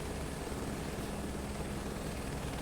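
Helicopter rotor and engine drone from Microsoft Flight Simulator 2024 during a search-and-rescue flight, a steady, dense, broadband roar that holds level throughout without any talk.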